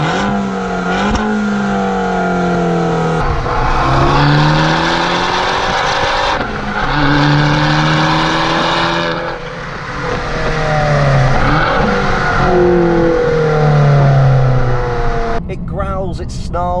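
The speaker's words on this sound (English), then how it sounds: "that new Akrapovic exhaust at the back, which just sounds incredible" Abarth 595 EsseEsse, a Fiat 500-sized hot hatch with a new Akrapovic exhaust, revs loudly and repeatedly. Its engine note climbs and falls in rising sweeps and sounds close throughout, with talk partly underneath.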